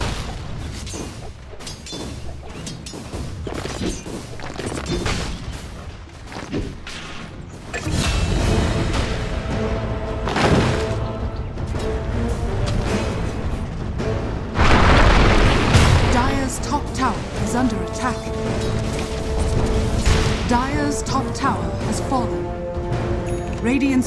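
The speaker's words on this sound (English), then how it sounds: "Dire's top tower is under attack." Dota 2 match audio with a tower under attack: dense, loud layered game sound with booming impacts and mechanical clatter, intensifying midway and running continuously throughout.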